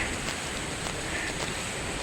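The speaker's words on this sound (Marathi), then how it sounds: "आणि पाऊस कंटिन्यू चालू आहे." Steady rain falls during a trek at Brahmagiri, a continuous dense hiss of drops with no pauses and no voices.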